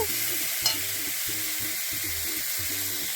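Steady sizzling of vegetables frying in a pan for khichuri, with repeated scraping strokes of a spatula stirring in a regular rhythm, close and continuous.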